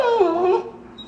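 A pit bull gives a short, high, whiny yelp that slides down in pitch and fades within a second, close by, with no talk over it.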